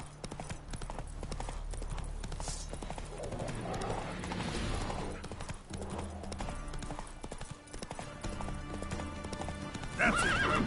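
Roach, the horse from The Witcher 3, gallops with a steady, loud clip-clop of hooves that runs throughout, while a brief neigh rises near the end over a busy background of game sound.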